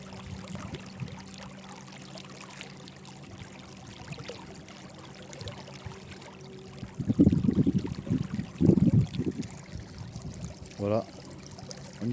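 Electric motor on a float tube speeding up, its prop churning and splashing the water in bursts that grow louder toward the end, heard close over a low steady motor hum.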